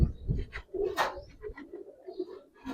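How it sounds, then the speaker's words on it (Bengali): Giribaz pigeons coo softly nearby, low throaty calls mixed with light rustling and shuffling. "দুইটা কবুতর দেখেন"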